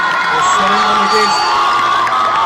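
Loud crowd cheering and shouting from a squash audience at the Squash World Cup 2025, Express Avenue Mall, after Abhay Singh's win, a continuous roar of voices with whoops, close and steady throughout.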